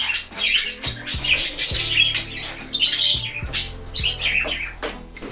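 Several pet lovebirds squawk loudly and repeatedly while flying free outside their cage indoors, harsh overlapping calls and chirps coming in quick bursts with wing flutter and movement in between.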